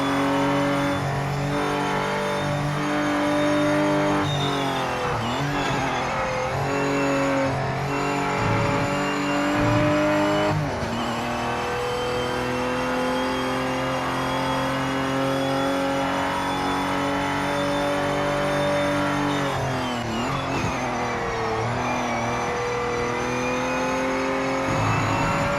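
A race car in Project Motor Racing on PS5 revs and shifts continuously, its engine note climbing and dropping through gears with a few sharp dips, loud and steady throughout.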